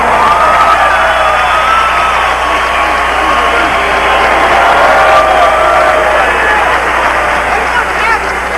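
Loud, sustained hometown crowd roar and cheering at a Roy Jones Jr. boxing match against Fermin Chirino, a dense wash of voices running steadily without breaks.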